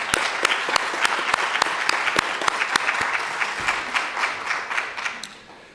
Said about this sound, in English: let's show our appreciation for all these folks and give them a round of applause